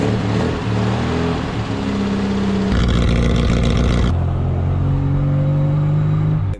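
A Mini car engine runs close by with a steady, deep idle rumble, rising into a louder rev for a moment before settling back, with no voices.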